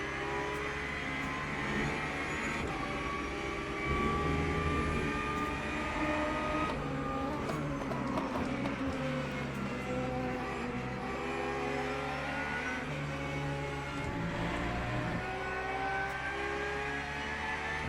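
Race cars in a racing video game overtake at Spa, engines droning loudly and steadily with shifting tones as the cars pass through the corners.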